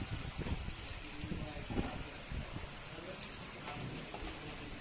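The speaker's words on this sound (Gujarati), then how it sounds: "આ વરસાદ વરી રહ્યો છે" Rain falls steadily in Ujjain in a constant hiss, with soft scattered drips and patters nearby and faint background noises mixed in.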